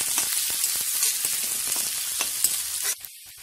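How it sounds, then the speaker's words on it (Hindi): Two large onions sizzle in hot oil for pav bhaji, a steady, close, bright frying hiss with faint stirring clicks that cuts off abruptly near the end. "तेल गरम हो चुका है, इसमें प्याज डालेंगे, करीबन 2 बड़े प्याज हैं और इसको लाल करके भूनेंगे"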